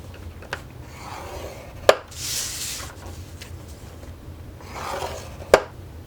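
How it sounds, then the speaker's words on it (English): A scoring tool scrapes along cardstock paper while a gift box is being made, giving short rasping strokes between two sharp clicks, close and clear, with no talking. "Okay, so I'm gonna go ahead and score this."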